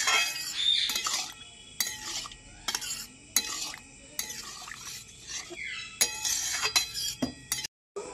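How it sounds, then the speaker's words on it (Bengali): Spoon stirring a pot of ghugni made from fresh new peas, scraping and clinking in a steady series of strokes with a soft sizzle beneath, close by and without talk. "এবারে একটু চালাবো। এটা নতুন মটর, অনেক তাড়াতাড়ি সিদ্ধ হয়।"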